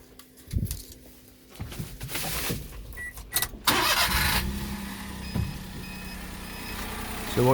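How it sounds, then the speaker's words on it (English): A 2011 Daihatsu Hijet S211P Japanese mini truck with a 660cc petrol engine cranks with a few clicks and knocks, fires up, then settles into a steady close idle with a faint electronic beep. "start the engine and demonstrate that"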